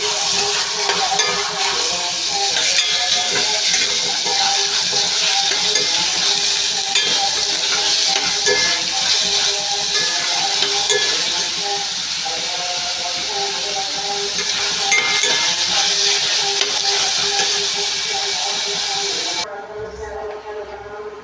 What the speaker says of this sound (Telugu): ఉల్లిపాయలు అయితే వేసేస్తున్నామండి వేసుకుని బాగా వేగే వరకు ఫ్రై చేసుకోవాలండి